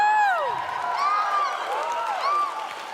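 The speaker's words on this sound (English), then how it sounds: "yeah, you cheer now" Audience at a PAX West 2016 convention panel cheering and whooping in a large hall, with a continuous crowd roar and several rising and falling shouts on top, loud and sustained throughout.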